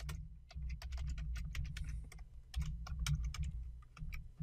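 Computer keyboard keys tapped in a quick, uneven run while entering a password during domain controller setup, close and clear over a steady low hum.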